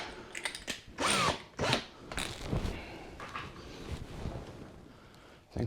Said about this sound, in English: that is not a sharp drill either.